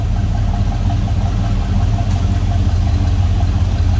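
A 1973 Impala's 350 engine idles steadily with a deep, even rumble that holds constant throughout, close and loud, with no talking.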